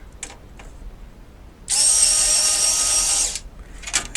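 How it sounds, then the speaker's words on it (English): An electric screwdriver drives motherboard screws into a PC case, giving one close, loud whirring burst of about two seconds between a few small clicks. "sometimes when I can't get one in with this screwdriver, I'll use a regular screwdriver to get it in"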